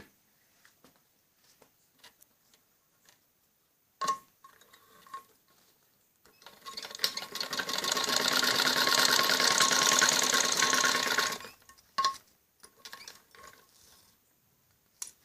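A sewing machine runs a single steady burst of stitching through kameez back-neck fabric folded over buckram, loud and close, with a few quiet handling clicks before and after.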